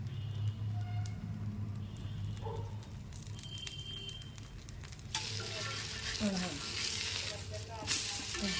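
Oil hisses and sizzles on red lentil dosa batter spread in a pan, a steady frying crackle that grows brighter and louder partway through, with faint background sounds.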